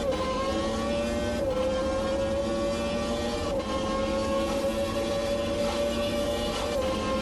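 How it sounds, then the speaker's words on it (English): Race car engine in the video game Automobilista 2, a loud steady high-revving drone from inside the car, interrupted by several brief throttle cuts as it shifts up through the gears. "Nice big throttle cut on those upshifts"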